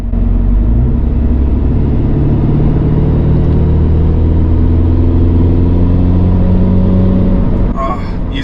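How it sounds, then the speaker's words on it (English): Turbocharged engine of a Mini Cooper F56 fitted with aluminum charge pipes, a loud steady rumbling drone with a rising whooshing turbo spool, continuous and close throughout. "the sound of the turbo spooling. So it's kind of like that jet sound"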